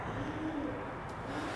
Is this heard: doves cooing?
yes